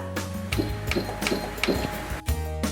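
Janome 1050DC sewing machine stitching a zigzag, a steady motor hum with a regular pattern of needle thumps, close and fairly loud, briefly pausing near the end before resuming.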